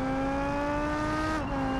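A rally car engine in the BeamNG.drive driving game holds a steady, high, whining roar like a jet, with strong tonal harmonics that dip briefly in pitch near the end.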